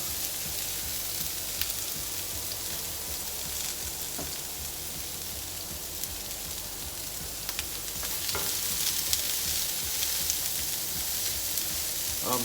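Corn kernels cut from the cob and green beans sizzle steadily on a grill pan for grilled succotash, a continuous close frying crackle with small pops throughout and no talking.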